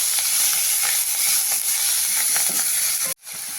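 Swiss chard greens go into a hot pan with cumin and sizzle loudly in a continuous hiss, with soft stirring scrapes throughout, before the sound cuts off abruptly near the end.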